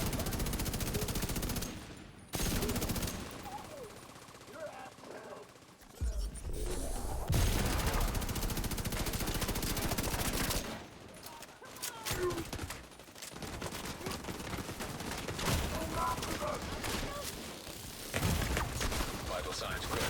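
Heavy gunfire and explosions rage in The Division 2, with rapid automatic bursts, booming blasts and mechanical clatter coming in loud waves separated by brief quiet gaps, while voices talk over parts of the action.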